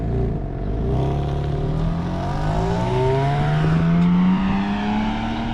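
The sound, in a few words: BMW G82 M4 modified exhaust idling with valve controller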